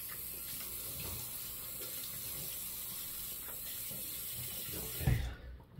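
Water runs steadily from a bathroom tap while a face is wetted for shaving, a constant close hiss with small splashes, ending in a louder splash and sudden quiet as it stops.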